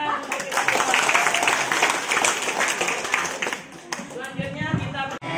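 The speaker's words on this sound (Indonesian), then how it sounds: "Baik, tepuk tangan." Audience at a group coordination meeting clapping together, brisk busy applause mixed with voices, fading briefly before picking up again toward the end.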